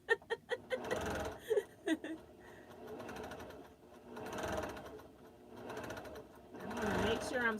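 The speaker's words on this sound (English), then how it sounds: "I'm just going to sew over the pins." A sewing machine stitching a quilt piece straight over the pins, with a few quick clicks and then a steady whirring run that rises and falls in waves, with a person talking.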